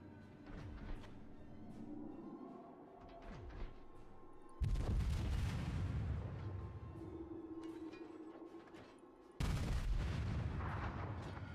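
Heavy naval cannon fire from warships in World of Warships, with sudden deep booming salvos breaking in twice over a low rumbling battle ambience.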